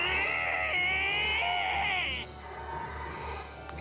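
A wild, shrill scream effect from the visual novel Umineko When They Cry, one long wavering shriek that holds strongly and then trails off into a fainter, rough, whimpering tail.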